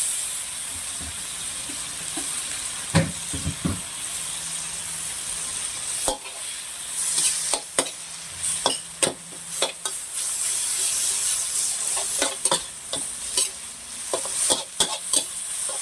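Chicken stir-fried with holy basil and pickled bamboo shoots in a Thai made-to-order street kitchen, a continuous loud sizzle broken by repeated sharp scrapes and clangs of a spatula against the wok.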